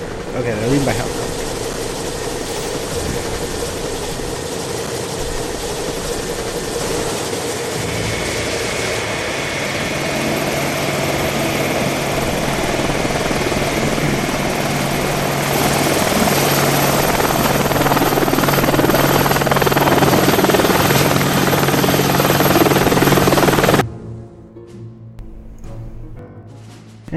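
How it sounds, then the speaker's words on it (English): Helicopter from the video game Evil Genius, rotor and engine drone sustained and growing louder for over twenty seconds before cutting off abruptly, with speech underneath. "Oh, helicopter. Okay, they're leaving by helicopter."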